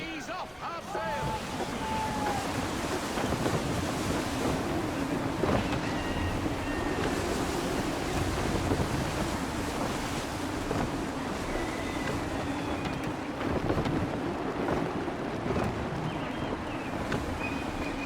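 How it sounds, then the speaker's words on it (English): Gusty wind and rolling waves rush steadily around a sailing ship in Assassin's Creed 3, a continuous loud wash of wind and surf with creaks and shifting tones throughout. "Gusty winds can be difficult to manage."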